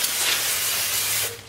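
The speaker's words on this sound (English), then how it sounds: "Just get some brake clean and spray the whole thing down." Brake cleaner sprays in a steady, loud hiss onto a rusty Chevy Silverado brake assembly, continuous for over a second before tapering off, with no talk.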